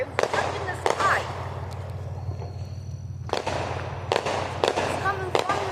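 Fireworks bursting in the sky, heard as a run of sharp booms and crackles in two clusters split by a quieter gap, over a steady low hum, with voices talking faintly in the background.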